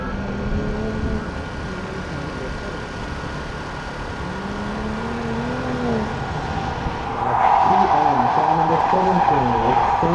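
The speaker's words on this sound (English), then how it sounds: "Did the most massive fucking drift." An autocross car drifting through a course, its engine roaring and tires squealing under steady talk, with the engine and skid noise swelling louder near the end.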